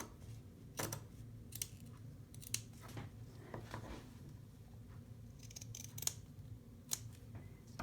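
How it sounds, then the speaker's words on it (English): Scissors snip through curved fabric for a cover, with crisp close cuts at an irregular pace over a low room hum, quiet and without talking. "because this is curved, we definitely want to try to cut out some of this fabric"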